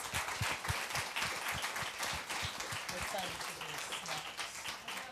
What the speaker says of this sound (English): Let's get everyone another round of applause, please.